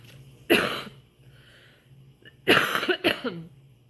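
Two bouts of coughing close to the microphone, a single harsh cough then a cluster of rougher coughs, with quiet room hum between.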